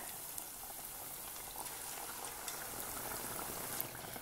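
Homemade egg-free, milk-free filled churros frying in hot oil, a steady dense sizzle and bubbling hiss at low level throughout, with no talk.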